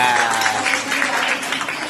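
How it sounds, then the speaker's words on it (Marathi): Children at a special school's Independence Day program clap together in a dense, continuous round of applause. Voices can be heard talking over it. "कसे पोरं टाळ्या वाजवतात"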